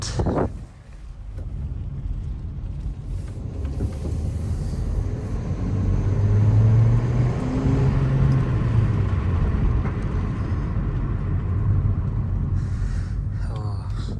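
A Hyundai Sonata New Rise driving, with a steady low engine and road rumble inside the cabin that swells slightly midway, plus faint wind noise and small clicks near the end.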